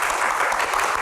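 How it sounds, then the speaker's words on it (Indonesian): Studio audience applause for panelists during an evening Q&A talk show, a full, even wash of clapping from many hands filling the short moment without speech. "kita berikan tepuk tangan yang paling meriah untuk panelis yang sudah hadir di Q&A malam ini"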